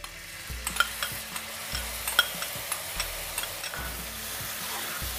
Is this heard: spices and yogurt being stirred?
yes